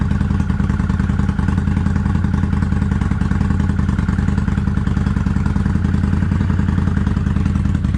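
A Kawasaki Vulcan 800 Classic motorcycle engine idles steadily nearby in cold weather, a loud low rhythmic chugging with a faint metallic clatter, no voices.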